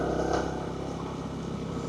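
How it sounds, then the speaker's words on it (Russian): A TVS HLX 150X motorcycle engine runs at a steady idle nearby, a low, even, moderately loud putter with no voices. "Он и не тихий, и не громкий, но прям вот чувствуется, что мощность есть какая-то у мотоцикла"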